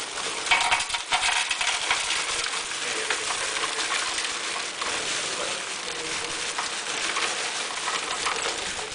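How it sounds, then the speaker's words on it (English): Ice is poured into hot beer wort just after the boil in an automated personal brewery prototype, producing a steady crackling, clinking rattle that continues without pause. "now we're going to add ice to cool the boil down"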